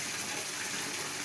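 River water pumped from a village pump house gushes out of a pipe into a holding tank, a dense, continuous, fairly loud hiss and splash with no voices over it.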